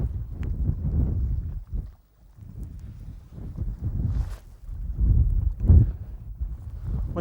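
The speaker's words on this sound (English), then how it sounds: "When the wind gets like this" Wind gusting across open water beside a feeder-fishing swim, a low rumbling roar buffeting the microphone in uneven waves, with a brief lull partway through and no voices.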